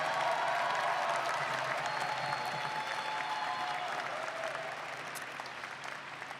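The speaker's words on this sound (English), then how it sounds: "Please join me in a round of applause for the Master of Science in Public Policy and Management" Sustained applause from a graduation audience honoring Master of Science in Public Policy and Management graduates at a college hooding and diploma ceremony, a steady dense wash of clapping that fades slightly toward the end.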